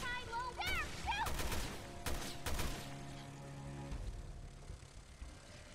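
Gunfire in the video game Resident Evil Revelations 2, several sharp shots in a short cluster near the middle, with bird-like calls and a steady ambient hum before and around them.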